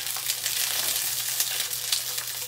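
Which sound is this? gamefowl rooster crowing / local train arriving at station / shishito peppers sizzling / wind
shishito peppers sizzling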